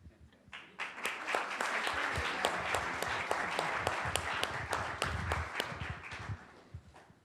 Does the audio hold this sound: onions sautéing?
no